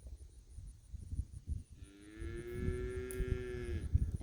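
A cow lets out one long, drawn-out moo partway through, close and clear, over low rumbling background noise on a farm.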